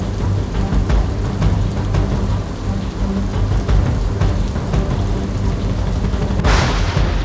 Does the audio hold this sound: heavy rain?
yes